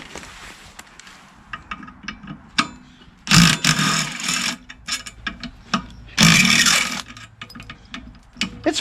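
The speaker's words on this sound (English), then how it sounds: "let's take the head bolt off" A head bolt is worked loose on a blown Briggs & Stratton 6.75 Craftsman Quantum engine, with sharp metallic tool clicks and two louder, longer bursts of ratcheting or spinning nearby.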